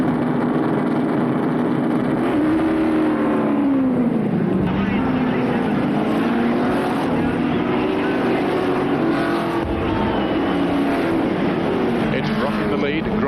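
Race cars at the Bathurst motor racing circuit in Australia roar past in a steady, loud engine drone with rising and falling pitch as they pass, under a commentator's voice throughout.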